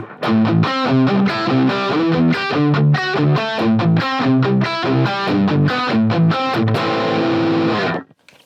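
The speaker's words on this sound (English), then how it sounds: "I'm playing my guitar through the Fractal Audio Axe FX 3." Heavily distorted electric guitar through a Friedman amp model on a Fractal Audio Axe-FX III, amp and cab only, plays a rhythmic riff of chugging chords, then rings out on a sustained chord before cutting to silence.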